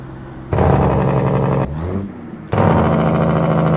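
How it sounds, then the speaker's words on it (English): A truck's engine brake in American Truck Simulator gives a loud, close, harsh droning rumble that cuts out briefly to a quieter engine tone and then kicks back in at full strength. "Sorry, I couldn't hear with my engine brake going."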